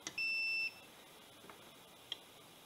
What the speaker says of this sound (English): if we touch 2 leads that are together, you should hear a beep